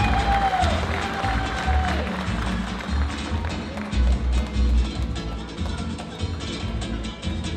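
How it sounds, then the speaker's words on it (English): Audience applause at an end-of-year dance recital, a steady patter of clapping with low rumbling beneath, continuing evenly from start to finish. "Ladies and gentlemen, a round of applause for your Master of Ceremony for tonight."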